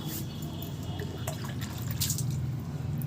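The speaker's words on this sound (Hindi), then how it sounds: "तो इस आधे लीटर में हम देखिए कितना पानी ऐड करते हैं।" Water pouring into a one-litre container being filled in several measured litres, a steady liquid trickle and splash running continuously at close range, with no talking over it.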